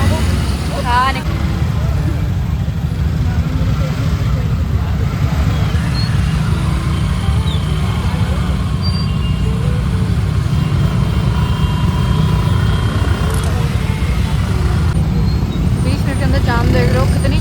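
Steady roar of a congested road with buses, bikes and scooters crawling in a traffic jam, engines rumbling continuously at close range while a person talks over the noise throughout.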